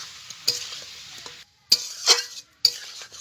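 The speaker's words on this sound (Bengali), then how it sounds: "মাংসটাকে একটু ভেজে নেব" Chicken meat seasoned with salt and turmeric frying in a pan, a steady close sizzle broken by several sharp stirring scrapes and short pauses.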